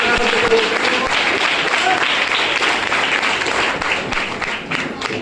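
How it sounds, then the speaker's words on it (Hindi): Loud, sustained applause from a seated audience at an indoor gathering, dense clapping filling the whole stretch with no pause. "एक जोरदार ताली आप सब लोग के लिए होनी चाहिए,"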